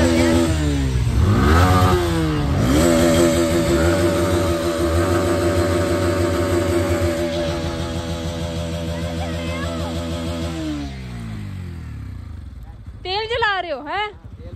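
Yamaha MT15 BS6 motorcycle accelerating on a ride, engine revving up loudly through rising gear changes and close by, then easing off, with voices talking over it near the end.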